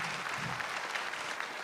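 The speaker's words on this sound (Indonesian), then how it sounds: "Tepuk tangan sekali lagi dong untuk Eja Saputra." A stand-up comedy audience gives a comedian a brief round of applause, a dense, continuous clatter of many hands.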